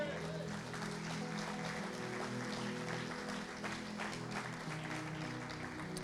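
A church congregation applauds steadily in a dense, even wash of clapping, fairly faint and distant, with a voice and some tonal sound running underneath.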